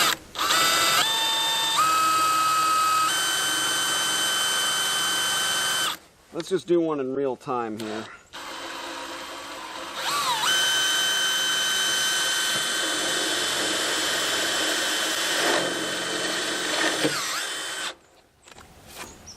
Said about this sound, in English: this is thick steel. Trying to drill through there,